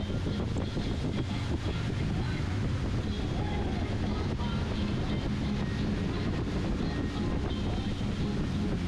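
Steady engine drone and rushing water from a boat moving on Tonle Bati Lake, with constant wind buffeting the microphone throughout.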